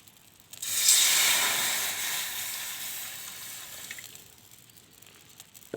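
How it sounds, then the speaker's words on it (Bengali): Water poured into a wok-style pan on a stovetop to boil noodles gives a sudden rushing hiss that swells quickly, then slowly fades over several seconds with no talking. "চুলায় একটি কড়াই বসিয়ে দিয়েছি, দিয়ে দিচ্ছি কিছু পরিমাণ পানি"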